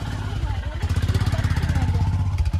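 A motorcycle engine pulses under off-road riding, its rapid, steady firing beats swelling after a rougher start and continuing close and loud to the end.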